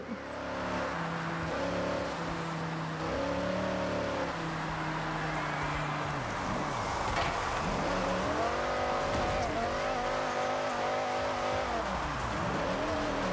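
An Aston Martin in a racing video game, engine droning and shifting pitch as it accelerates, then wavering into tire squeal and skidding during donuts, steady and close without talking.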